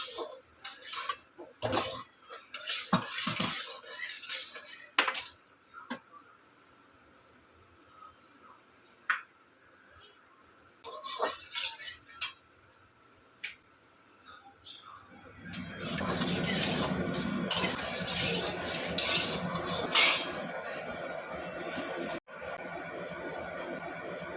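Whole cumin seeds tempering in a pan for a potato and pointed gourd dish, intermittent scraping and tapping of stirring at first, then a louder sustained sizzle and rasping stir from about fifteen seconds on.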